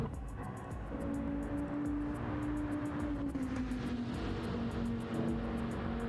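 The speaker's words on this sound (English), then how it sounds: "it's a beautiful sound as you hear that car come past" Race car sweeping past during a night endurance race at Autopolis International Racing Course, a faint engine tone rising and falling in pitch against a rushing background, with a steady rhythmic ticking throughout.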